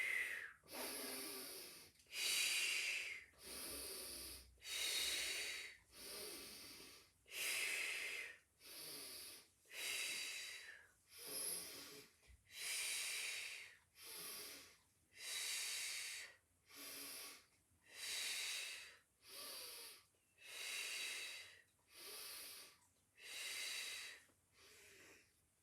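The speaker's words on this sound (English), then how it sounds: "Breathing in and out." Heavy rhythmic breathing during a Pilates exercise, about eighteen deep breaths in and out, each a breathy hiss with brief pauses between, close and steady over roughly twenty-five seconds with no talking.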